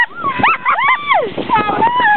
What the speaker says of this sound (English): Oh, you're doing recording the dogs.